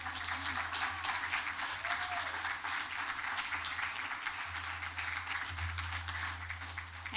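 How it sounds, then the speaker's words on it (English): Sustained applause from a room full of people at a town candidate forum, steady and moderately loud, with a low hum underneath throughout. "I think we should give our candidates here a round of applause."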